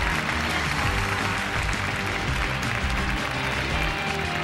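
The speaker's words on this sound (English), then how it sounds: "a big hand from this very polite Japanese crowd" A polite Japanese crowd at a Tokyo tennis final applauds Maria Sharapova's win, dense continuous clapping that fills the whole stretch at an even, fairly loud level.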